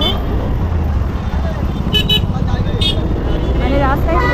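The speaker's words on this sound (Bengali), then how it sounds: "মানে রাস্তায় প্রচুর জ্যাম" Car horns honking in a heavy traffic jam near the crowded Diamond Harbour riverside during Saraswati Puja, short toots popping out over a constant rumble of engines and street noise.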